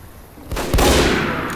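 In Team Fortress 2, a sniper rifle shot cracks out, a single sharp loud report followed by a second heavier blast, with a bright sustained ring and rumble after it.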